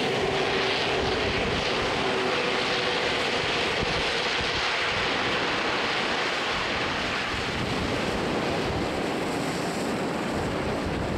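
A Sea King helicopter roars steadily overhead at an Armed Forces Day display on Plymouth Hoe, with a loud, continuous rotor and engine drone mixed with wind buffeting the microphone.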